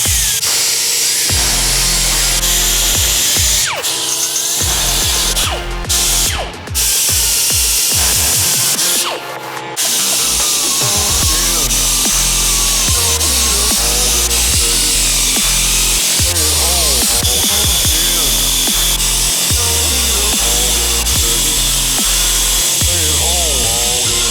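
Angle grinder with smaller, heavier-grit discs cleaning up welds on a custom steel oil tank for a Harley Sportster flat tracker, a loud continuous grinding whine with brief pauses and shifting pitch as the disc works the metal.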